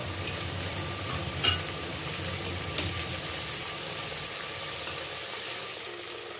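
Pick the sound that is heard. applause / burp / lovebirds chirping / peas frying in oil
peas frying in oil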